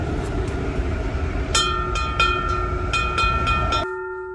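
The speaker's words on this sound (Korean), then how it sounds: "와, 기차 온다!" Train rumbling steadily past nearby, heavy and loud, with a string of bright metallic squeals and clanks toward the end before the noise cuts off abruptly, no talk.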